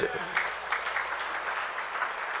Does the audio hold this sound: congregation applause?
yes